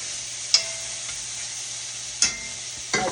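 Stir-fried roast sizzles steadily in a pan, a constant bright hiss with a few sharp scrapes of stirring spaced across the stretch.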